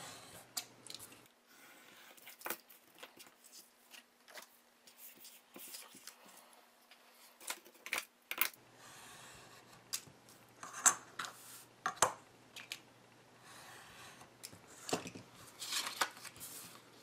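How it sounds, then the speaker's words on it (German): Scissors snipping along the cut lines of a printed paper desk calendar, with short crisp cuts and rustling paper in irregular bursts, close but quiet, with faint handling noise between cuts. "ab jetzt wird einfach immer an diesen Schneidelinien abgeschnitten"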